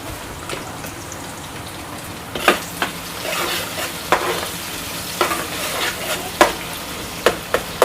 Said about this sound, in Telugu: ఇవైతే గోల్డెన్ బ్రౌన్ కలర్ వచ్చే వరకు మంచిగా ఫ్రై చేసుకుంటున్నాను